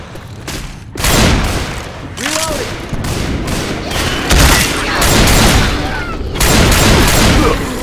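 Gunfire in the zombie shooter Left 4 Dead 2, loud rapid bursts of shots and booms in repeated volleys, close and sustained throughout, with voices faintly underneath.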